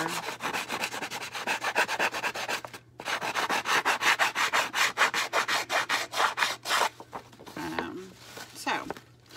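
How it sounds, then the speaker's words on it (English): A hand file rasps across the edge of a handmade journal in quick, rhythmic back-and-forth strokes. The filing is close and steady, pauses briefly, then continues and slows into softer rubbing near the end. "I'll finish this one with the file, just so it's like all the same."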